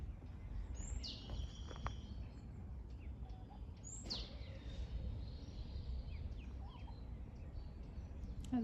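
Small birds give two clear, high chirping calls a few seconds apart over a steady outdoor rumble of wind and traffic, with fainter peeps in between, during a walk to check on four ducklings.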